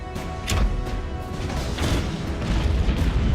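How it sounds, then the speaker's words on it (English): Several deep short-range ship cannon booms go off in quick succession with crackling bursts in the video game Abandon Ship, set against a rumbling, noisy background of battle. "launch the killing blow with our powerful short-range cannons"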